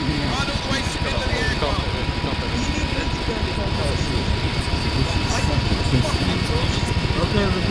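An airplane engine in ArmA 3 drones loudly and steadily the whole time, a broad close roar with a faint propeller-like flutter beneath it.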